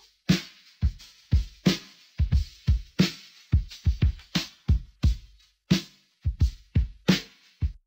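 Drum loop from a song chorus, stem-separated and pitched down, with punchy kicks and snappy hits in a steady groove and a slightly smeared, artifact-laden tone, heard alone.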